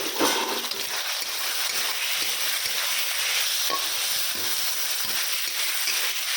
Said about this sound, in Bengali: বেগুনটা দিয়ে দিলাম। এখন একটু মশলাটা দিয়ে ভাজা ভাজা হয়ে গেছে,